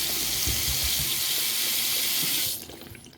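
Steady rushing water pours from an open faucet for a couple of seconds, then cuts off abruptly, leaving only faint trickling and drips.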